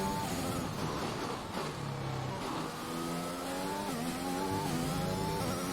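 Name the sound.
race car driving in video game F1 2021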